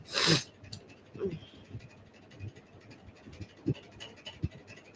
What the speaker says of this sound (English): Oh God, I sneezed.